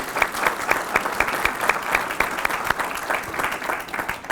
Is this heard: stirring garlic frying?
no